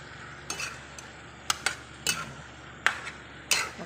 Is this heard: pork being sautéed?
yes